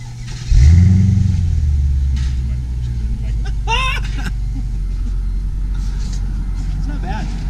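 A Mercedes C55 AMG V8 fitted with a new exhaust rolls past, its deep engine note swelling loudly at first, then fading into a steady rumble while people talk nearby.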